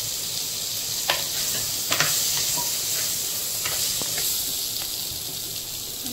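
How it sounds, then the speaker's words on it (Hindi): Salted hog plums fry in oil for a Goan white sardine curry, giving a loud, continuous close-up sizzle and hiss with a few sharp pops and spatters throughout. "आतां हांव ताका मातशें तेंचे मदीं फ्राय करतलें।"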